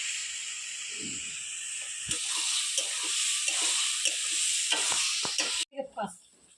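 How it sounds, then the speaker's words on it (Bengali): Potatoes frying with spices in oil as they are stirred in a pan, giving a loud steady sizzle and hiss with intermittent scraping strokes that ends abruptly, followed by a few clanks. "আমি আলু দিয়ে কষাতে থাকি"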